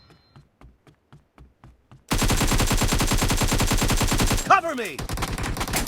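PUBG video game gunfire: a short run of soft single shots followed by a loud, sustained burst of rapid automatic fire with a sharp whizzing ricochet near the end, close and dense, with a brief shout over it.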